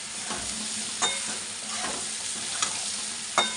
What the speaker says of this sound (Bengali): ঝিঙ্গা দিয়ে আর একটু কষাবো ভালো করে।